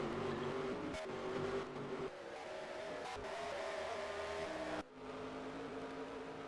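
GTO race cars lap in the NASCAR Racing 2003 video game, a continuous loud engine howl with a few brief dips and one sudden drop near the end, and no voices.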